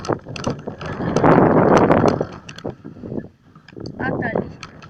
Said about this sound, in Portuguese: Hoje tá tendo muito vento.